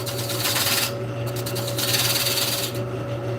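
Spindle detail gouge cutting wood on a lathe while turning a large piece, a steady motor hum under bursts of rough, scraping cutting noise that stop and start again, close and fairly loud.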